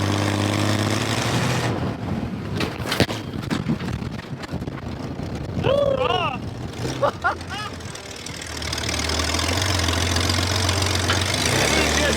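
Baja race truck engine cranking and firing in the desert dunes, settling into a loud, steady rumbling idle, with people talking over the start.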